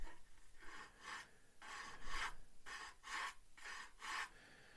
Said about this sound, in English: let the sander do the work